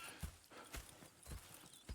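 Horses in the video game Red Dead Redemption 2 clip-clop on the ground in a quick uneven rhythm, several hoof strikes close by and fairly faint.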